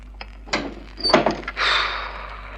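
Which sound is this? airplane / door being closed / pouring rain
door being closed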